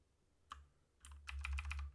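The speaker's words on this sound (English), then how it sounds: "and then I use my keyboard and mouse" Keys clack on a computer keyboard during online gameplay, with a single tap followed by a quick run of several keystrokes, close and fairly loud against a quiet low hum.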